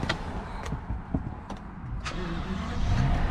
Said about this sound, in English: You can hear that very powerful engine, beautiful sound